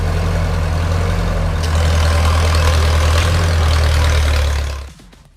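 An old tractor's engine idles after pulling out a large tree stump, a loud, close, low, steady rumble that runs for several seconds before abruptly dying away.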